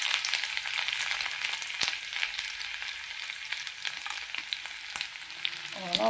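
Ginger fries in hot oil with popped mustard seeds, giving a steady, crackling sizzle with sharp pops scattered throughout. Occasional stirring scrapes break through, and no one speaks.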